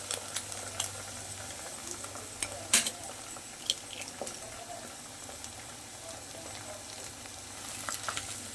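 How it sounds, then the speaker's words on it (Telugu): Potatoes fry on high heat in a pan for an egg and potato curry, giving a steady, quiet sizzle with a few sharp clinks of a utensil and no talking. "ఇలా హైలో పెట్టి వేయించుకోండి, సిమ్లో కాదు."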